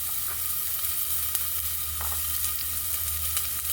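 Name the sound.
onion sizzling in cooking oil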